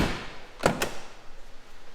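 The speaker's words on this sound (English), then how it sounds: "unlock the door, everything works a lot nicer" A door lock gives two sharp, close metallic clicks in quick succession as it is unlocked and the door is opened. Faint room noise follows.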